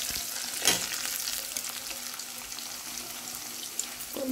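Lentils frying in a pan give a steady, close sizzle that runs throughout, with a brief scrape of stirring near the start and no talking.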